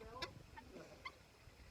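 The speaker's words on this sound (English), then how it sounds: "This rooster's nervous about coming out because of the other roosters." A young rooster clucks softly a few times, short faint calls in a quiet farmyard setting, with low background noise and no talk.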